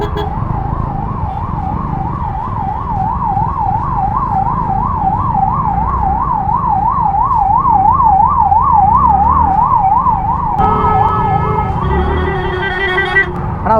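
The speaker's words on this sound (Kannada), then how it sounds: "ಯಾವಾಗಲಿಂದ ವೇಟ್ ಮಾಡ್ತಾ ಇದ್ದಾರೆ ಇಲ್ಲಿ ಆಂಬುಲೆನ್ಸ್ ಅವರು. ಆದರೂ ಸಿಗ್ನಲ್ ಓಪನ್ ಮಾಡ್ತಾ ಇಲ್ಲ." Ambulance siren wailing in a steady rising and falling pattern while stuck at a traffic signal, loud and close over engine and road noise, with a horn-like tone layered in near the end.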